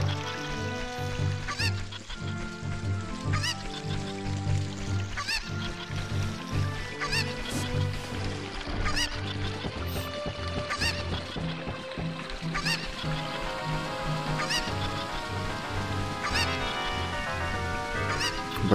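Cucco chickens cluck and squawk repeatedly in The Legend of Zelda: Ocarina of Time, with sharp bird calls scattered over continuous game music throughout.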